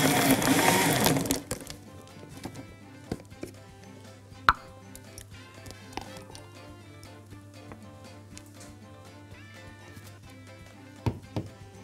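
A blender whirs loudly for a couple of seconds while mixing guava and caramel juice, then stops, leaving quieter kitchen clatter and occasional sharp knocks, with no talk.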